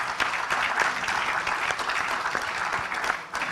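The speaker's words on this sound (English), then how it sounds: "A warm round of applause." A room full of people claps steadily and warmly, dense applause holding throughout before easing slightly at the end.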